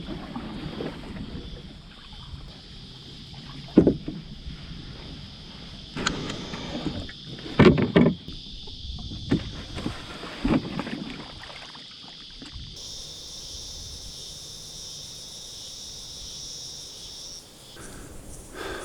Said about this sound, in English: just pulled the canoe up